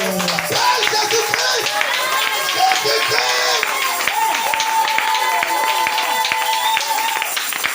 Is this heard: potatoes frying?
no